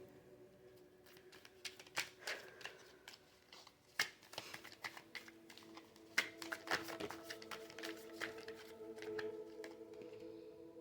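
Tarot cards being shuffled by hand, a quiet, close series of soft riffles, taps and slides in uneven bursts, with no talking.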